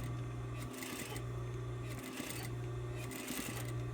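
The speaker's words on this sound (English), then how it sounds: "We're gonna sew the side on here." Sewing machine stitching a side seam on a fabric panel, a steady mechanical whir running throughout with brief changes in pace, close and alone.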